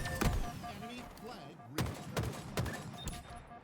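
Gunfire in the video game Halo Infinite during a capture-the-flag match on Fortress: several sharp shots in quick separate bursts, fairly loud against game noise, with someone talking over it.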